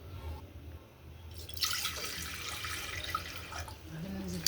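Water is poured into a cooking pot for boiling black-eyed peas and tripe, a splashing, trickling stream that starts partway through and continues steadily, fairly close.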